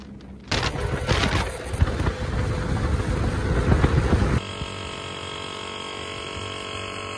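A motorcycle ride on a road trip to Casiguran, Aurora: a steady engine drone with wind rush that is loud and close at first, then shifts to a smoother, even hum.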